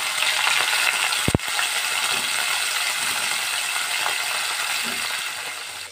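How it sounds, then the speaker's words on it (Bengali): Hilsa fish heads fry in a hot pan of oil, a dense continuous sizzle crackling steadily throughout at close range, with one sharp metallic clink partway through. "মাছের মাথাগুলো আগে প্রথমে আমি ভেজে নেব।"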